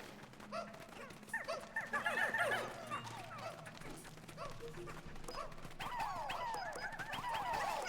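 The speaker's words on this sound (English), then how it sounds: "I can hear my own in the background. Barking to go outside" A pet dog barks to be let outside, distant in the background behind a Pikmin 4 game stream, as a few short yappy barks in two loose bursts under other sound.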